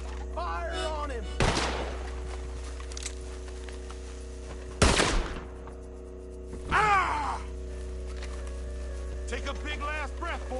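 Gunfire in a PS4 video game, two or three sharp loud shots spaced seconds apart over a steady low hum, with game voices and groans between them.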